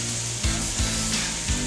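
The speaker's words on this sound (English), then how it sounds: "we're gonna take our sausage and get this nice and browned" Sausage browning in a pan, a dense close sizzle with soft rhythmic scraping as it is broken up and spread around.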